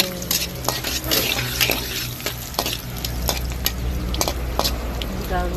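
Garlic and onion sautéing in a pan, a steady loud sizzle with repeated scraping and stirring strokes of a utensil against the metal, close and continuous.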